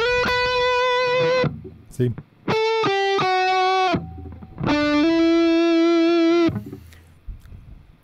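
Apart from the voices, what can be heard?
electric guitar through amp and cabinet, effects off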